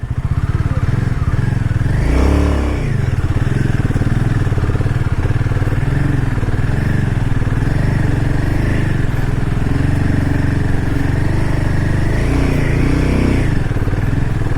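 A motorcycle labors steadily along a rough, broken mountain road to Lachen, its engine droning loud and close for the whole stretch with rattling and clatter from the rough surface and occasional surges in revs.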